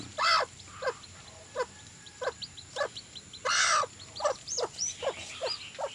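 A hen sits with her newly hatched chicks, giving rough clucking calls, while high chick peeps repeat in short bursts nearby, all fairly close and clear over a quiet background.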